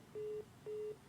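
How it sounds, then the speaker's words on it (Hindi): A telephone line's disconnect tone on a call into a television debate: two short, identical steady beeps about half a second apart, clear and alone over faint room hiss. "टेलीफोन डिस्कनेक्ट हो गया"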